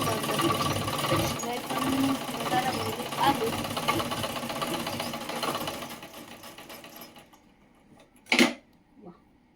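A sewing machine brought out after a long time runs in a steady mechanical whir for several seconds, then slows and stops, followed by a brief louder clunk and a faint final knock near the end.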